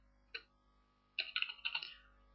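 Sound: typing text on a computer keyboard in Word

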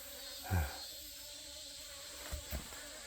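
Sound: honeybees at hive entrance net

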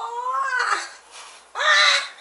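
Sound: crow cawing

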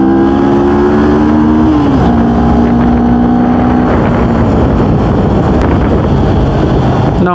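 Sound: twin-cylinder motorcycle engine riding in traffic

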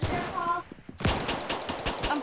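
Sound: gunfire in the video game Arsenal

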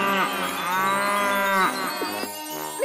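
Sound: cows mooing, echoed, in a cartoon

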